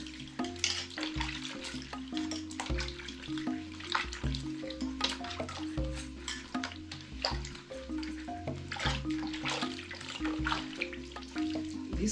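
Food is rinsed under running tap water at a sink in an off-grid kitchen, a steady close splashing and trickling with clinks of handling, no talking, while a low musical drone plays underneath.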